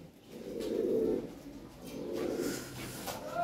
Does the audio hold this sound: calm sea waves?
no